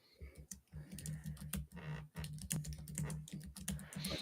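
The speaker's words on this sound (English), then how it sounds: "I can only hear you and somebody typing." Someone types on a computer keyboard, a quick uneven run of faint clicking keystrokes with short pauses, heard faintly as through a call line.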